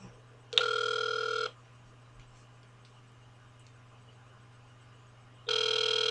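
Telephone ringback tone heard over a speakerphone after dialing a call, two long electronic rings separated by a pause of about four seconds, with a steady low hum underneath and no talking.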